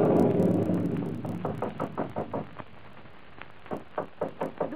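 Knocking on a door in a 1940s radio drama: after a brief rumble, a run of sharp, evenly spaced raps, a pause, then a second quicker burst of knocks, close and clear with no talk.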